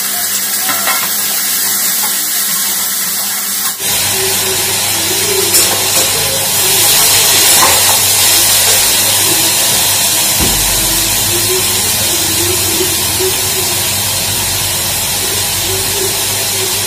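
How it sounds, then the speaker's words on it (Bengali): Cabbage tempered with nigella seeds in hot oil hisses in a loud, steady, close sizzle after a sudden start, with occasional stirring clatter and no talking. "কালো দিয়ে ফোড়ন দিচ্ছি বাঁধাকপিতে।"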